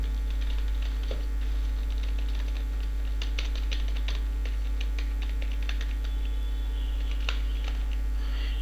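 Text typed on a computer keyboard, a run of light, irregular key clicks over a steady low electrical hum, close and fairly quiet, with no talk.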